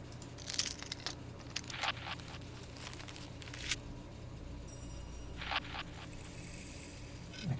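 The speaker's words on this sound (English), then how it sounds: "Like a rain stick in there, you got some paper in there." Layered foley percussion in a house music track, built from a rain stick and crinkling paper with delay: scattered rattling, crinkling bursts in clusters, with echoing repeats trailing off between them.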